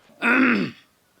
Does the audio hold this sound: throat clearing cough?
yes